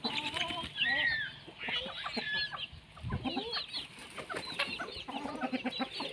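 Free-range village fighting chickens clucking near and far, a busy overlapping chorus of short clucks and squawks with occasional wing flaps, and a person's voice heard faintly among the birds.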